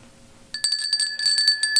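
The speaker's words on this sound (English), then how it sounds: "We gave you a real bell this time." A real bell rings in a quick series of bright, clear strikes near the microphone, loud and unaccompanied by talk.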